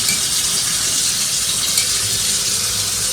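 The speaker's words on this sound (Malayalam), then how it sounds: "വെളിച്ചെണ്ണ ഒഴിക്കണം." Coconut oil poured into a pan, a continuous loud gushing stream with no pauses.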